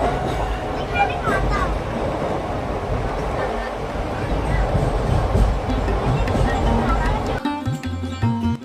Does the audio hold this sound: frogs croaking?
no